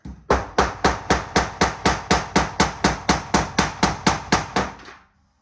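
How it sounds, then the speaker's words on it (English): A mallet strikes plaster encasing a rock in a fast, even series of about seventeen sharp, loud knocks, close up, then stops. "you can use a mallet"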